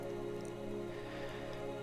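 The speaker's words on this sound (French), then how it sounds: "vous pouvez vous rendre compte qu'il pleut" Steady rainfall pattering on a surface, a soft continuous wash with scattered drops, heard alone at low level with no talk.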